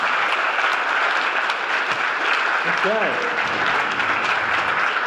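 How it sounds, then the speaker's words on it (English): An audience at a lean startup presentation evening in Melbourne applauds steadily, with dense clapping filling the whole stretch and a brief spoken word over it. "give them a round of applause, come on"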